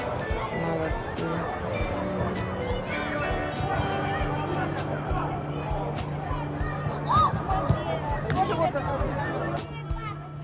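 Supporters of a youth football team chatter as a steady crowd babble at a tournament in Grodno, Belarus, a dense hubbub of overlapping voices with a low continuous hum beneath.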